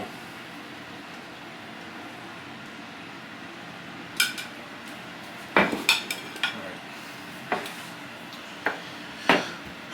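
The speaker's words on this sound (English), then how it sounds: "stir in the cornstarch" A utensil scrapes and clinks in a pan while cornstarch is stirred into a Hawaiian pork chop dish, several sharp metallic knocks scattered over a quiet background hum in the second half.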